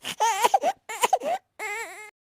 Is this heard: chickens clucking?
no